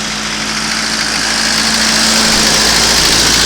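A 4x4's engine idles steadily while warming up, a close, continuous low rumble that swells slightly toward the end, with no talking.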